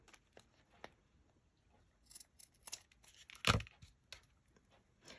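Scissors snipping a glassine paper bag in a craft project: several light crisp cuts and paper rustles, one louder crunching snip in the middle, close and fairly quiet.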